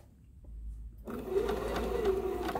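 A sewing machine starts up after a quiet moment and runs steadily, stitching curved quilt pieces for a tulip block, a close, fast mechanical whir with a rhythmic chatter.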